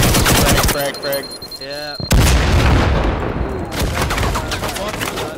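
A frag grenade in the video game Firewall: Rogue Maverick goes off in a loud, sharp blast that rolls into a rumbling tail, with bursts of gunfire around it.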